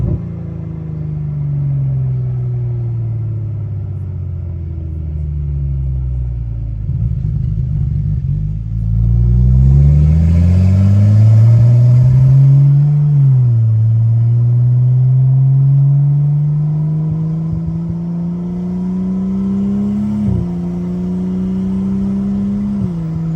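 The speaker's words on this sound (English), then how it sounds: "Damn, that turbo sounds good." A BMW F10 with a big turbo on ethanol fuel, out on a late-night street, rumbles at idle and then revs hard. Engine pitch rises in loud sweeping climbs, dips between shifts and holds a strong drone, with no voices.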